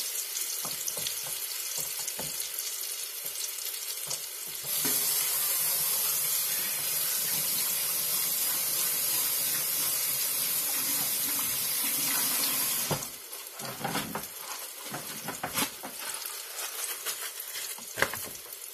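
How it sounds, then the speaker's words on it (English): A veggie burger sizzling in a skillet, steady frying hiss alongside running tap water that swells loud in the middle and then drops off, leaving scattered clatter. "put this burger in this skillet"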